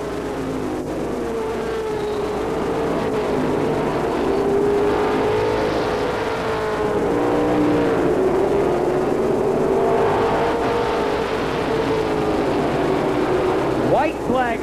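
Pro stock race cars roaring around Lee Speedway in 1989, steady engine drone with rising and falling pitch as cars circle the track, under continuous race commentary.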